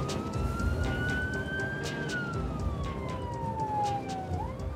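Emergency siren wailing during a fast ambulance escort after a road crash, a single rising then slowly falling tone over steady traffic rumble, fairly close and continuous.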